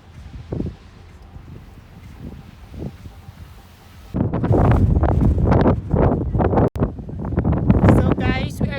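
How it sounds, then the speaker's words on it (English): Strong wind blows outdoors at Waterton in Canada. After a quieter start it turns into loud, rough, gusty buffeting on the microphone, mixed with a voice talking. "It's so very windy."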